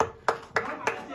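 Three sharp, separate claps ring out at an even pace, close and fairly loud, as a brief round of applause for children at a lively gathering.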